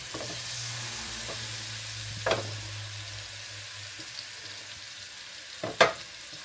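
Salmon frying in butter in a pan: a continuous, airy sizzle, joined by two sharp clinks as the fish is moved around, with a low steady hum beneath.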